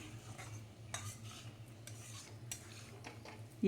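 Brinjal fry with chilli and coriander powder stirred in a pan, a spoon scraping the metal in a steady run of short, close strokes over a faint sizzle, with no talking.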